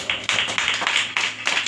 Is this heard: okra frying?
no